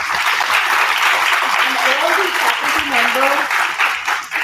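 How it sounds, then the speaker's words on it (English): A university audience at a guest talk for BBA students claps together in a dense, steady round of applause lasting several seconds, with a speaker's voice audible over it. "A big round of applause to them"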